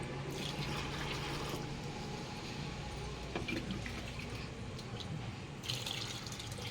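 Water splashing and trickling steadily onto garden plants at an Indian home, a continuous moderate flow like a tap or hose running, with no one speaking.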